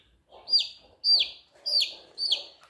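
Young chicks peeping while rings on their legs are changed, four clear high chirps spaced about half a second apart, close and loud over faint low rustling.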